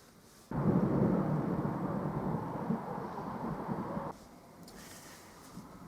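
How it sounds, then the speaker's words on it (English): Rolling thunder rumbles over a canal for several seconds, a broad low roar that starts abruptly and fades away, fairly loud against a quiet background. "there's just been a rippling of thunder"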